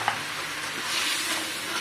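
Whole spices such as bay leaves, cardamom, cloves and cinnamon sizzle and fry in hot oil over a high gas flame for chicken salan, a steady close crackle with a small pop near the start and no talking.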